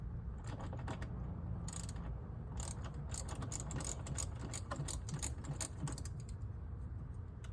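A ratchet socket wrench with a 10mm socket removing a bolt on a Honda Ridgeline, giving a quick run of light metallic clicks and jangles, close up and fairly faint.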